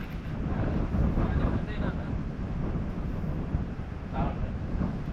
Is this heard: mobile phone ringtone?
no